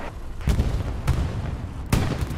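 A Stuka dive-bomber strike in a WWII strategy game hits near Carentan, landing as three heavy, booming explosions spaced roughly half a second to a second apart, loud and close over low rumbling battle noise.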